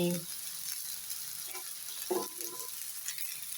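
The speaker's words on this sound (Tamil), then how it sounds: "நம்ம மீடியம் ஃப்ளேம்லேயே அழகாக வறுக்கலாம்." Fish fries in a pan over a medium flame with a soft, continuous sizzle, faint and low in level, with a few light stirring or handling sounds and a brief murmur of voice.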